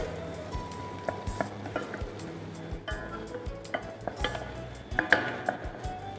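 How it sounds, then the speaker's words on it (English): Chopped onions frying and being stirred in a pan for pork chilli con carne: a steady low sizzle with scattered scrapes and taps of the spoon against the pan, close and moderately loud. "Add the chopped onions in, Cook onion until the onions are fragrant."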